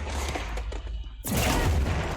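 Gunfire in the video game Control: a short muffled stretch, then a sudden loud burst of shots and explosive noise filling the rest of the moment.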